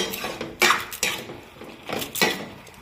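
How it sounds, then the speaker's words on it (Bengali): Metal spoon scraping and clinking against a cooking pot while ginger, tomato and vegetables are stirred, several distinct scrapes in an uneven rhythm, close and fairly clear with no talking. "এই যে এখন নাড়াচ্ছি"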